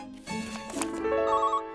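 Telephone ringing in the Horrid Henry cartoon, a short bright electronic ring with rising tonal notes over about a second, set in a cartoon soundtrack without speech.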